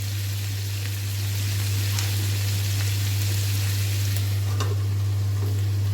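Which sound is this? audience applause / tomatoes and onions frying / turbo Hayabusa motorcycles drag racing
tomatoes and onions frying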